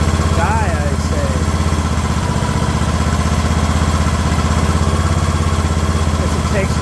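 Craftsman LT2000 lawn tractor engine running on the fuel left in its carburetor, a steady, loud, close idling chug that holds even throughout.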